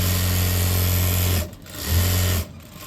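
A sewing machine stitches together two pieces of pant fabric, running in two steady bursts that are separated by a short pause, close and loud with no talking.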